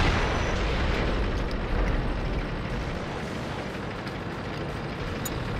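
Tank gunfire and explosions from the video game World of Tanks form a dense, rumbling roar of blasts and booms that holds steady and loud throughout, with no clear gaps.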